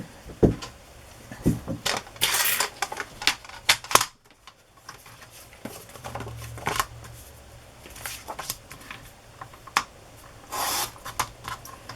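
Paper is being cut to make journal ephemera, with close, intermittent crisp scrapes, snips and rustling handling noises separated by short quiet gaps.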